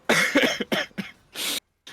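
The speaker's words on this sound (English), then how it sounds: "coughing left and right" A burst of several harsh coughs in quick succession, close and loud, followed by a brief pause and one more cough.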